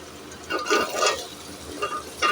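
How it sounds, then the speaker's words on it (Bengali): Diced potatoes drop into a pan of onion and ginger already frying in oil, giving a few soft scraping stirs and brief sizzles close by with no talk. "দেখো পেঁয়াজটা অলরেডি আদা ভাজা হয়ে এসছে, এবার আমি আলুগুলো দিয়ে দেবো।"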